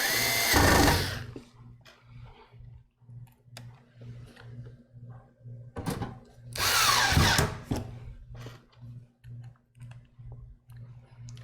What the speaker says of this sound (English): I am tightening these down because I'm verifying these are in fact the right screw